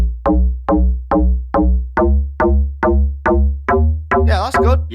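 FM synthesizer donk bass with its modulation amount adjusted, a steady run of about ten punchy, bouncy bass notes in even rhythm, loud and close, ending in a brief warbling sweep.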